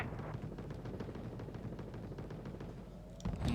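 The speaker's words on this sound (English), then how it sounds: "They do have alternative weaponry, though. Strafing runs." Rapid strafing gunfire from an aircraft in the Wargame Red Dragon combat game, a steady stream of sharp repeated shots with rumbling blasts, loud and continuous, ending in a heavier burst.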